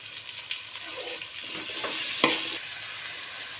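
Onions and green chillies fry in a pan with a soft, steady sizzle, with light stirring scrapes and one sharp clink partway through, heard close with no talking.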